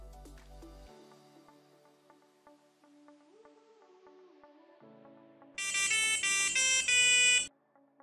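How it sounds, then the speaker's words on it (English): A piezo buzzer on a Maker NANO microcontroller board sounds a loud, shrill electronic beep lasting about two seconds, preceded by quieter faint tonal blips. "And one piezo buzzer."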